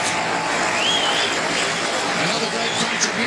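Basin Reserve crowd applauding Martin Crowe's fifty against England at the 1992 cricket World Cup, a steady broad wash of distant clapping and crowd noise under continuous commentary.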